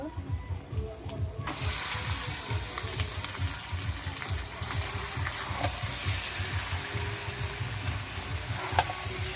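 Chicken pieces dropped into spice paste already fried deep red in a pan, a sudden loud sizzle that keeps crackling steadily, with occasional stirring clinks and no talking.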